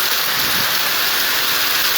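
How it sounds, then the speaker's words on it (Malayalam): Heavy rain pours down on the MC road, a dense, even hiss of falling water filling the air at constant loudness with no voices. "അത്ര ശക്തമായ മഴയാണ് കാണുന്നത്"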